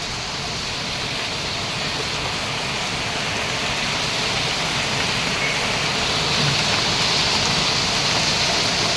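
Heavy rain pours steadily in Mumbai in a dense, unbroken roar that stays loud and even from start to finish.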